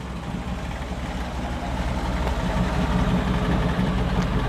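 A 1964 Chevrolet Impala SS with a 409 V8 and dual exhaust idles steadily from behind the car, a continuous low rumble that swells slightly toward the end.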